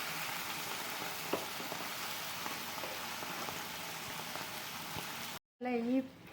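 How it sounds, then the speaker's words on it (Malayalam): Cooked liver frying in a pan for a liver fry, a constant hissing sizzle that cuts out briefly near the end before a voice speaks over it. "ലിവർ ഇട്ട് കൊടുക്കുകയാണ്"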